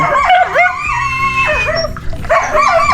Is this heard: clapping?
no